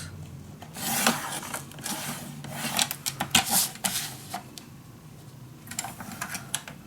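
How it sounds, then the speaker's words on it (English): A craft cutter scratches and rasps through paper as a frame is cut out, in short irregular bursts of close, dry scraping and clicking, with no voices. "Now I also can use my cutter to cut this out."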